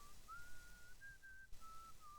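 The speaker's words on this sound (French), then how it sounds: "Quelqu'un siffle, une lointaine mélodie." A lone, faint whistled melody drifts from afar in a video game temple cutscene, thin sustained tones holding and sliding over a soft ambient background.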